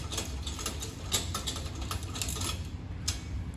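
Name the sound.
tightening nuts on kart wing slider with ratchet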